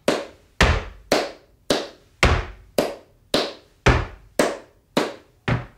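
Heavy foot stomps, eleven in a steady, evenly spaced beat, each a loud close thump with a short decay, played alone as accented rhythm practice.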